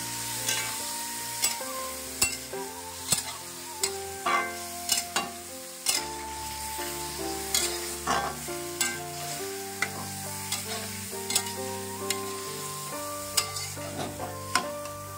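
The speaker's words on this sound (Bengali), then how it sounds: "চালগুলো দিয়ে সুন্দর করে একটু নাড়াচাড়া করে নেব" Rice being stirred as it fries in a pan for khichuri, with repeated rhythmic scraping strokes over a steady sizzle and background music throughout.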